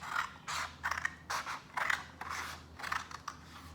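Scissors snip through paper in a series of short, crisp cuts, about six strokes with brief pauses, close and fairly quiet.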